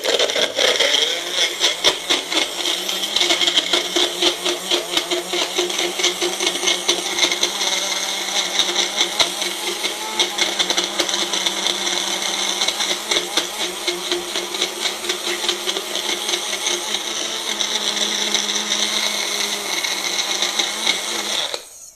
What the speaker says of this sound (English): I put it in a magic bullet blender to save time